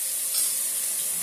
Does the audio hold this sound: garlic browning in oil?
yes